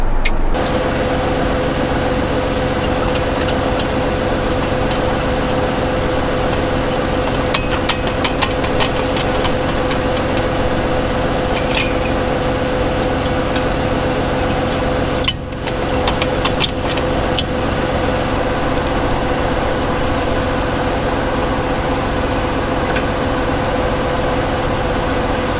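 Dual track tractor engine idling in a farm shed, a loud, steady diesel rumble with a constant knocking texture, running alone throughout with occasional brief clanks.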